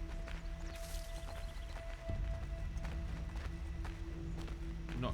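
Horse hooves clip-clopping in the Assassin's Creed III video game, a steady run of hoofbeats under a continuous game soundtrack and ambient bed with a faint voice nearby.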